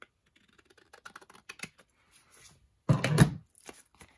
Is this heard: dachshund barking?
no